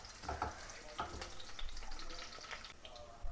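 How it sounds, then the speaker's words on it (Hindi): Curry leaves and slit green chillies frying in hot oil for a Rajab niyaz dish, giving a steady soft sizzle with a few brief crackles and clinks early on. "इसको फ्राई कर लेंगे।"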